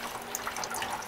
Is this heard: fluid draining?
yes